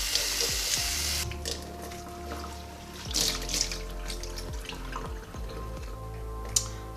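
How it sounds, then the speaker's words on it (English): Water from a faucet runs steadily as conditioner is rinsed out of a human-hair T-part wig in a sink, with splashing bursts and drips over the continuous flow. "you can go ahead and rinse your wig"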